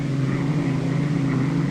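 A throaty, steady engine roar from a hydroplane racing boat at the 1963 Diamond Cup race, loud and droning with a strong low hum and no talking.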